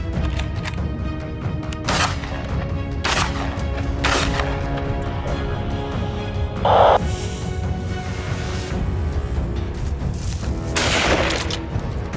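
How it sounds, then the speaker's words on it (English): Several sharp gunshots ring out at irregular intervals during a wild boar hunt in Arkansas, over a droning background, some distant and echoing, a few louder cracks. "The ambush was swift, gunfire rang out"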